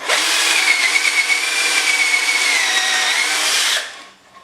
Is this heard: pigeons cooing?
no